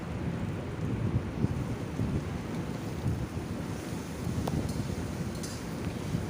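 Sliced vegetables and a handful of mint leaves sauté in an open pan for vegetable rice, making a steady broadband hiss and crackle that runs unbroken throughout at a moderate, even level.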